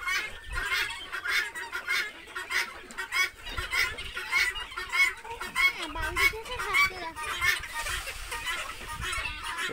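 Desi chickens on a poultry farm cluck and squawk busily at feeding time as feed goes into the feeders, a close, continuous chorus with a voice talking at times.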